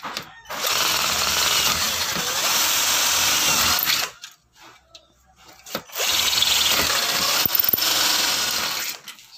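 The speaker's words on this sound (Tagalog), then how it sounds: "we need to replace another drill bit para lakihan yung butas" A power drill bores a hole through an SF screen door crossbar in two loud, close, sustained bursts separated by a short lull of quieter handling noise.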